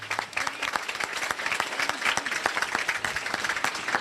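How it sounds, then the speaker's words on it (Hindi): A school audience applauds a student topper, dense clapping from many hands that holds steady and fairly loud throughout. "तो तालियां बजा दीजिए बच्चे के लिए आप सभी।"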